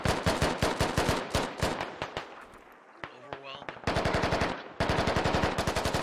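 Rapid automatic gunfire in the military shooter Squad, with Russian infantry exchanging shots at range: dense bursts of shots, a short lull, then more sustained fire, with speech faint underneath.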